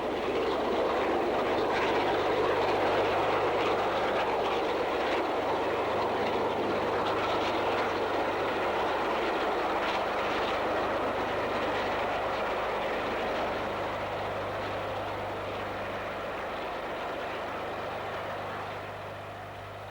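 Steam-hauled 1960s train, with Stanier Class 5 locomotives mentioned, running along a main line, a loud continuous rolling rumble with wheel clatter that fades slightly toward the end.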